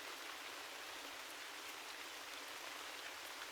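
Rain pours in a dense, unbroken hiss of countless drops, steady and fairly close, with no voices or other sounds over it.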